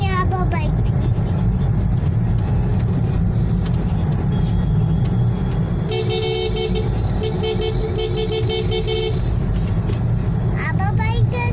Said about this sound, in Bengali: আবার বাইক এসে গেছে।